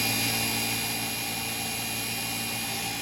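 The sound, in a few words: grinder cleaning up a tractor part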